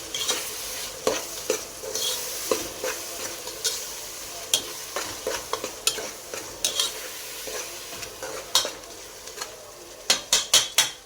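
A spoon stirs mahshi stuffing mixture in a pot with repeated sharp scrapes and knocks against the metal over a soft frying sizzle, speeding into a quick cluster of strokes at the end.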